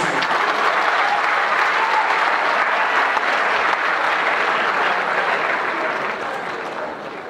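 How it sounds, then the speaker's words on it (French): Sustained applause from a large crowd at a diploma ceremony, steady and loud, gradually fading toward the end. "Sous vos applaudissements."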